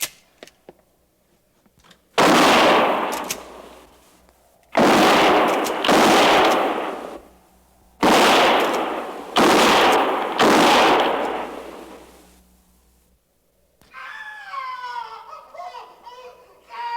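Gunfire volley in a radio drama: three loud bursts of rapid rifle shots, each pair of cracks ringing out and decaying, followed by a short stretch of fainter chattering sounds at the end.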